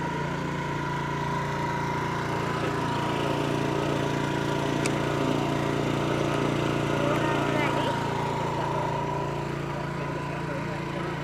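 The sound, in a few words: motorbike engine starting and idling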